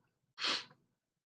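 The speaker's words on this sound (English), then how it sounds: "I feel a sneeze coming on." A single sharp sneeze bursts out clearly against near silence, loud and brief with a breathy, hissing tail.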